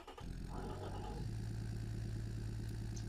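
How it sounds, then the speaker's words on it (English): A car engine with single twin DCOE carburetors, in the game Automation, starts up and then settles into a steady, loud, rumbling idle with an even pulsing beat. "lovely idle sound"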